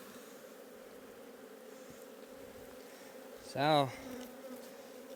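Honeybees drone steadily at an opened hive that has just swarmed and holds many queen cells, a continuous low hum throughout with a short spoken phrase near the end.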